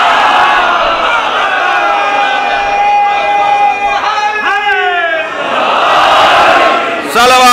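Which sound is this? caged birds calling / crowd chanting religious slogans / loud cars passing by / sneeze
crowd chanting religious slogans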